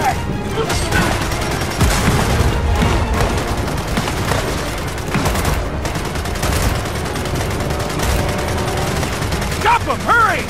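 Dense gunfire and explosions from the Gears of War 4 tutorial battle, with rapid automatic bursts, heavy booms and a grenade blast rolling over a continuous loud din, with game voices shouting over the combat.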